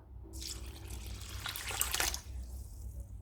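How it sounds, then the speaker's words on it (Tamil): Water is poured from a tumbler onto washed seeraga samba rice in a kitchen to soak it for mutton biryani, making a soft, splashing pour that swells briefly in the middle, then tapers off. "ஒரு 2 டம்ளர் அளவு தண்ணி சேர்த்து அரிசியை ஊற வச்சுக்கிறேன்."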